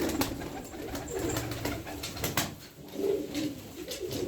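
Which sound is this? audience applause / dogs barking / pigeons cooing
pigeons cooing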